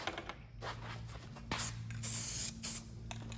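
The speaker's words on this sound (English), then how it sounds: "lightly spray it like that." Several short bursts of hissing aerosol dye spray on a 1971 Corvette C3 interior in a garage, close by, with a low steady hum underneath and brief pauses between sprays.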